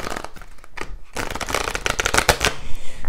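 An oracle card deck is shuffled nonstop for about three seconds, a dense, close crackle of riffling and sliding cards with no talk.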